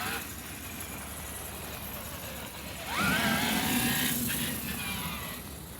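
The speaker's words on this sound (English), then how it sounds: "What you're hearing now are the rotors and the calipers." Brake rotors and calipers on the E Raminator, an 8S-powered vehicle running without clutch springs, turning while it drives: a close, rising mechanical whine and whir that swells sharply midway, then holds steady and loud.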